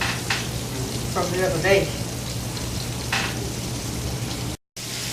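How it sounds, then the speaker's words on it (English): Pork chops frying in a pan on the stove, a steady crackling sizzle with popping fat, while someone talks briefly over it in a home kitchen. "I like to fry mine on the stove"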